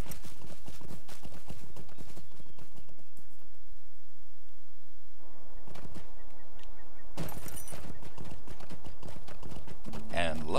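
Hooves of a rented horse clip-clopping in the game LOTRO, a steady rhythmic trot that breaks off briefly midway, with talk layered over it.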